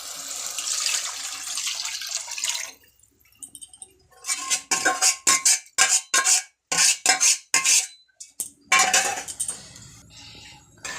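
Chicken stew goes into a hot pan as part of making spicy ramen noodles. A steady hiss gives way to a short lull, then a quick run of splashy, clattering bursts close by, with no talking.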